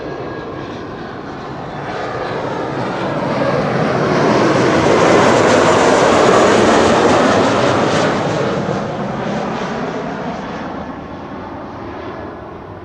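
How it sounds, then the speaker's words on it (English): A KLM airliner arriving from Barcelona lands at Amsterdam Schiphol on a sunny day, its engine roar swelling as it passes near and loud, then easing away. "This is KLM flight 1948 arriving from Barcelona"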